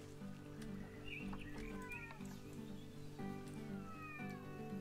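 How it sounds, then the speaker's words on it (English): A cat-like animal cries out in a Planet Zoo game, several drawn-out meow and wail calls with chirpy bird notes over a steady low ambient hum. "Sounds like a trapped cat."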